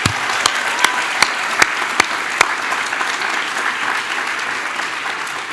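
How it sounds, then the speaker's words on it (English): Commencement audience at the Jewish Theological Seminary giving the chancellor a big round of applause: a broad, sustained wash of clapping from a large crowd, with a few sharp, distinct claps at the start, steady throughout. "Let's give her a big round of applause"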